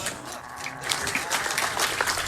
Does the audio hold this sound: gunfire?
no